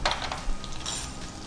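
Sambar onions crackle and sizzle as they drop into hot tempering oil in a pan, a short burst of close, bright frying noise with a little stirring, no one talking.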